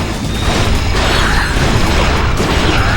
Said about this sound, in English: Ratchet, I've upgraded your bots to turn both cranks